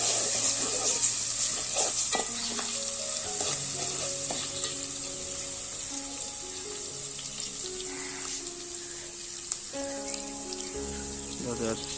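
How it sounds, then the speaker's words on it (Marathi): Garlic fries in hot oil with a continuous bright sizzle while a spoon stirs and scrapes the pan, close and steady, with faint background tones underneath. "आता तेल चांगलं गरम झालं आहे त्यात लसूण टाकून घेऊया तर लसूण चांगला परतून घेऊया"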